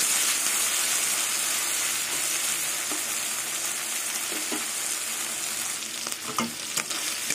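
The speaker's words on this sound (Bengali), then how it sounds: "পেঁয়াজ, চিংড়ি মাছ আর কাঁচা লঙ্কা সব একসাথে ভাজা হয়ে গেছে" Onion, shrimp and green chili fry together in a pan with a loud, steady hiss that stays close and continuous. A few stirring knocks come near the end.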